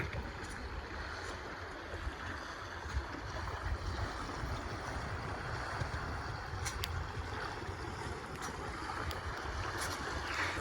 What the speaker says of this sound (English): Nice bit of downwind running.